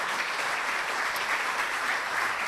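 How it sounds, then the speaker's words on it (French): An audience at a research network's tenth-anniversary event applauds, a dense, steady wash of many hands clapping at an even level throughout. "on peut l'applaudir"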